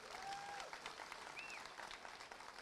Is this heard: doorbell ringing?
no